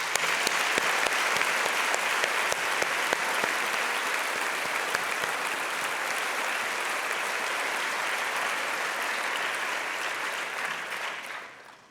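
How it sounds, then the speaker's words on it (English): Sustained round of applause from a crowd at an MBA graduation ceremony, dense clapping with a few sharp claps early, holding steady before fading out at the end. "Please join me in giving them a big round of applause."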